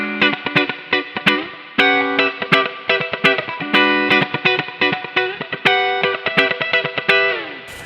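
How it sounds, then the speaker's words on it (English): An electric guitar through a Fender valve amp, its spring reverb captured by a Torpedo Captor load box, plays a clean, rhythmic funk line of choppy chords and single notes with a reverb tail after each stab. "that's the reverb from the amp, and even that comes through really well through the capture box"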